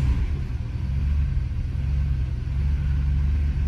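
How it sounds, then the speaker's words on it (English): A cheap used Ferrari, left sitting for four months, runs with a steady low engine rumble that holds loud and even throughout, with no voices over it. "So let's fire up the car and see what happens."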